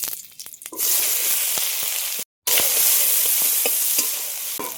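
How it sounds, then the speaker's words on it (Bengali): Cumin, garam masala and onion hit hot oil in a wok and burst into a loud, steady sizzle with stirring scrapes, close up and without talk, as the base for Bengali ghugni is fried. "কড়াইতে তেল দিয়ে দেব ফোড়নে জিরে গরম মশলা পেঁয়াজ"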